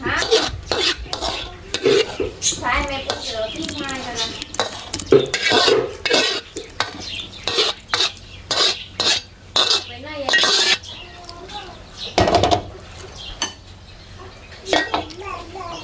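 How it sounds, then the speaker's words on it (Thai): Fried basil minced pork scooped from a pan onto a plate, a run of repeated metal scrapes and clinks of a utensil against the pan, close and loud, with brief talk between strokes. "ตักใส่จานได้เลยนะครับ"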